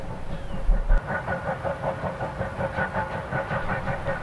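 A steam locomotive train rumbles past with a steady rhythmic clatter of wheels and chugging, continuous and fairly close, with no voices.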